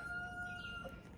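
A brief, faint rooster crow, a thin high call heard at a distance over quiet background.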